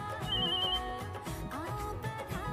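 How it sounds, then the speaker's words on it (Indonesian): A telephone rings with a bright electronic ringtone over a busy background of music and ambient sound, moderately loud and continuous across the short span. "teleponmu berdering"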